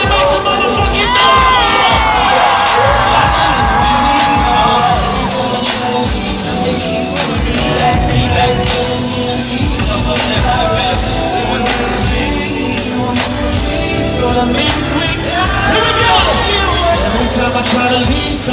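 A large concert crowd at the Sprint Center in Kansas City cheers, whoops and shouts continuously at high volume, a dense roar of many voices that never lets up.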